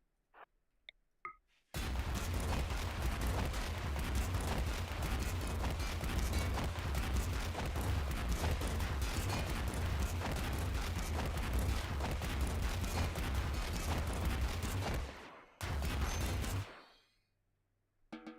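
Sustained, dense barrage of turret fire in RimWorld: a continuous roaring wall of rapid shots and booms running for about thirteen seconds, briefly dropping out, then a final short burst before it stops.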